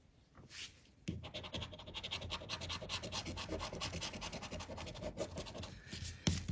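Steady rasping scratch of a coin scraping a French Carré Or scratch-off lottery ticket, close and continuous for several seconds after a brief pause, alone with no talking.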